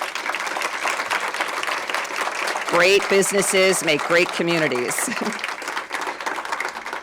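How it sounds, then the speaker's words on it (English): Audience applause at a not-for-profit summit awards presentation, a steady dense patter of clapping throughout, with someone speaking over it in the middle. "Let's have a big round of applause for them"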